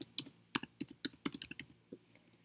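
A password is typed on a computer keyboard as a quick, irregular burst of crisp key clicks, close and clear, with a short pause before one last tap.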